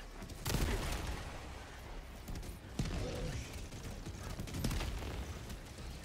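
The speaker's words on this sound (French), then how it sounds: "Ouais, ma tourelle lance-roquette, là, elle va me shooter." A rocket turret fires in the video game Helldivers 2: a few sharp, booming bursts stand out from a dense, noisy battle din, with no talking.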